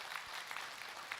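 Brief, fairly faint applause from a studio audience at a Buddhist monk's question-and-answer talk show, a short burst of scattered clapping.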